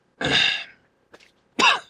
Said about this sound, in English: excuse me, people, got a bit of a cough.